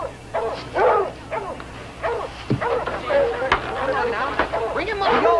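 Dogs bark, yip and whimper repeatedly close by during a search along a creek, with excited overlapping calls and people talking amid the barking.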